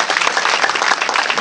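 Church congregation applauding and cheering in praise of Jesus Christ during a service, a dense, steady wash of clapping from a large crowd that holds loud and unbroken throughout.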